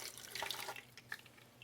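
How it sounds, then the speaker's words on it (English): A small amount of water is poured into a tomatillo salsa mixture, a faint, close trickle and splash that is strongest early and then tapers off. "And I'm just going to put a little bit more water."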